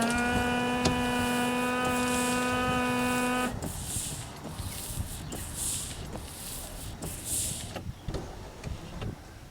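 The windshield wiper motor and washer sprayers of a 1998 Corvette C5 are tested after replacement: a loud steady electric whine stops abruptly, then softer mechanical swishing and spraying follows with small clicks, close by.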